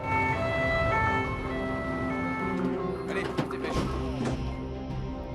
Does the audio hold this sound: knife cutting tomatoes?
no